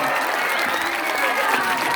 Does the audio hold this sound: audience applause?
yes